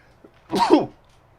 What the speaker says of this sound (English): Little bit of a sneeze right there.